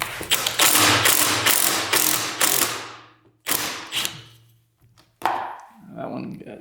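Head bolts being spun off a quad's engine with a power ratchet tool, loud bursts of mechanical whirring and clicking in several runs with pauses between, a voice briefly heard.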